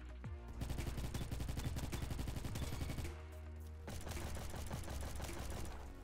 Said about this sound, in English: I was not expecting that much recoil from this pistol